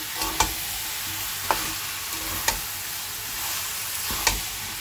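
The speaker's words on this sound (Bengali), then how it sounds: "এবার দিয়ে দেবো সয়াবিনটা। সয়াবিনটা দিয়ে কষিয়ে আমি দিয়ে দেবো গরম জল।" Potato, pumpkin and soy chunks sauté in a pan with a constant sizzle, broken by four or five sharp spatula knocks against the pan at irregular intervals.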